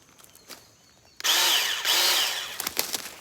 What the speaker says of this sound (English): Now we're going to chainsaw some stuff.